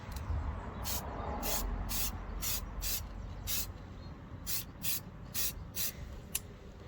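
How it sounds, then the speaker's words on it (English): Aerosol spray paint applied in a row of short, sharp hissing bursts near a car wheel during last-minute MOT prep on a Mk3 Golf SDI, with quiet gaps between bursts over a low background rumble. "I'm just gonna have to try and paint it carefully just to make sure I don't get much overspray onto the wheel"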